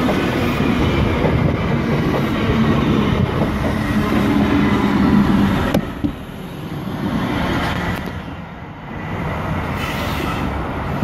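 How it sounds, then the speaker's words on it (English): A Sydney V set double-deck train pulls into platform 2 at Berowra station, a loud, close rumble of wheels and carriages with squealing rails and clacking over joints that eases as it slows. "Have a V set arriving into platform 2."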